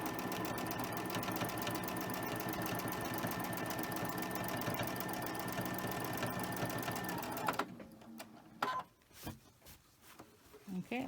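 Sewing machine doing free-motion stitching with a darning foot, a fast steady needle rattle running continuously for most of the clip, then stopping, followed by a few brief handling clicks and knocks.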